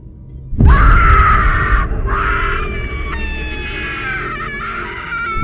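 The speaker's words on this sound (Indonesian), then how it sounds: "aku kemudian mendengar jeritan dari seorang ibu terdengar di dalam telepon" A woman's loud, anguished scream breaks out suddenly and continues in wavering, wailing cries, with a harsh, distorted quality from coming over a phone line.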